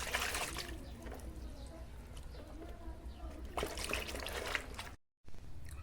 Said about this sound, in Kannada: ನೋಡಿ ಫ್ರೆಂಡ್ಸ್ ಈ ಥರ ಸ್ವಚ್ಛಾಗಿ ನಿಚ್ಚಳೋಗಿ ತೊಳ್ಕೊಳ್ಬೇಕು